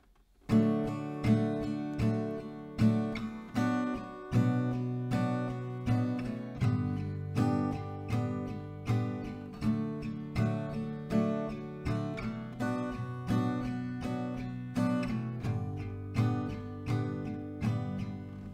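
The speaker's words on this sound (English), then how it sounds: "We're gonna do a strumming, but this time only down," Acoustic guitar chords strummed with downstrokes only in a steady, even rhythm, each stroke ringing bright and full, played alone at moderate loudness.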